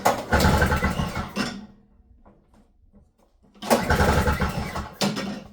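A snowblower engine has its starter cord pulled in two rough, loud bursts of cranking and sputtering that fail to catch, separated by a quiet gap with small clanks.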